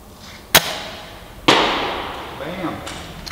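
Airsoft gun fired with iron sights at a helmet target, two sharp snapping shots about a second apart, each followed by a short decaying ring, with faint talk afterward.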